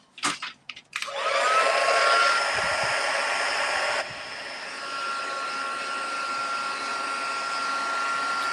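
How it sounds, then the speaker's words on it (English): A heat gun switches on after a few clicks and blows with a loud steady airy whoosh and whine, dropping to a lower setting partway through and running on close by. "And then I'm going to get my heat gun."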